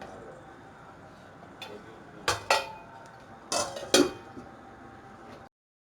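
Metal lid set onto a pot of chicken kofta curry after adding water: a few sharp clattering clanks in two pairs, close and fairly loud, over a faint steady kitchen background.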